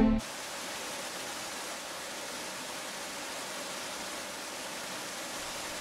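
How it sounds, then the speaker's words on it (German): Water rushing steadily through the turbine of a cloth factory, a dense, even broadband roar that holds constant throughout after a brief louder onset. "Der Weg des Wassers durch die Turbine."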